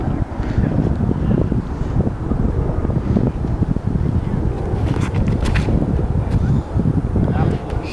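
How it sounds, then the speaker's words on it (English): Wind gusts outdoors on a disc golf course, a loud, constant rumbling buffet across the microphone with some voices mixed in underneath. "There's slight headwind"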